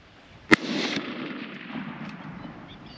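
One sharp, loud rifle shot cracks during a boar hunt in the Australian bush, followed by a rolling echo that slowly fades into the open outdoors.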